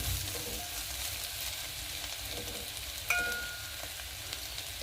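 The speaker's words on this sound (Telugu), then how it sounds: "పసుపు వేసాక కొంచెంసేపు వేగనివ్వాలండి." Curry of broad beans and tomato fries in a pan with turmeric, giving a steady, close sizzle throughout with a brief clink near the middle, no voices.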